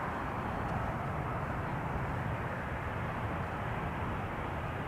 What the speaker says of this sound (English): You could also see that the KLM flight from LAX is getting closer and closer by.